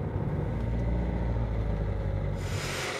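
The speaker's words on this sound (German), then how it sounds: "Carsten fährt mit mir zu der Werkstatt, die das Auto für ihn umgebaut hat." A wheelchair-accessible car fitted with hand controls drives along, its steady low engine and road rumble filling the interior continuously, with no one speaking.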